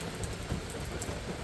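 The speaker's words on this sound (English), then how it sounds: "the rain is falling" Steady rain falls outdoors in the morning as a continuous, even hiss of drops with no distinct pattern, moderately loud and alone without any talking.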